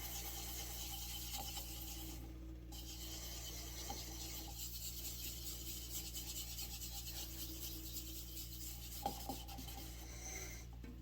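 Friction polish is rubbed by hand onto a spinning spalted maple piece on a wood lathe, giving a faint, steady rasping hiss over the low motor hum, with a few small knocks.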